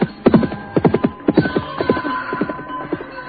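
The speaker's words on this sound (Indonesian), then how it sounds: "Dan binatang itu pun melompat, berlari kencang meninggalkan halaman rumah Rakeh Bangun." Horse galloping off from a house courtyard in an Indonesian audio drama, with rapid, uneven hoof clatter and a sustained tonal hum behind it, fairly loud and close with no talk.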